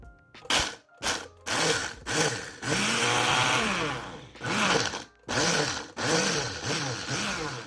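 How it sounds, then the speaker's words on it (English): A kitchen blender whirs through spices for a lamb marinade in repeated loud pulses, each run rising and cutting off, with short gaps between. "Now that we got everything on the blender, we're just gonna blend it up."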